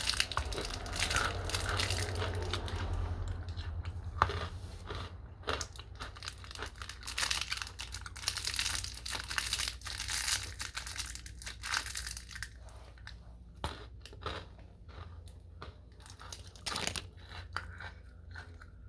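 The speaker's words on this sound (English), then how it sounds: "If I'm eating more candy, that's a bad sign" Someone chews crunchy candy close to the microphone, with repeated crisp crunches and bites in an irregular rhythm over a quiet background.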